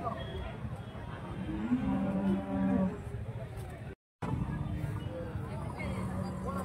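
Cattle moo at a busy weekly sheep and cow market in Santhipuram, Andhra Pradesh, with one long, low, drawn-out call near the middle, set among steady crowd chatter and nearby voices.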